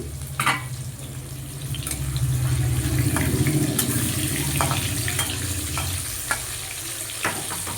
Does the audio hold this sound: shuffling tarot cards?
no